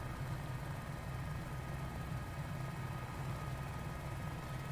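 A steady H125 helicopter engine drone with a low rotor throb in Microsoft Flight Simulator, constant and fairly quiet throughout, no voices.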